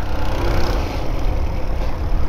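An old, cheaply bought motorcycle engine runs close by with a rough, continuous mechanical chug, loud and steady throughout with no voices.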